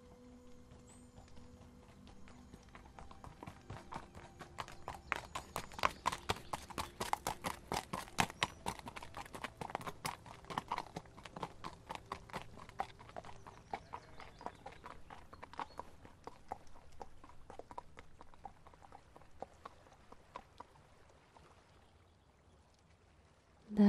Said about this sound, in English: Let's just get on the horse and we can go home.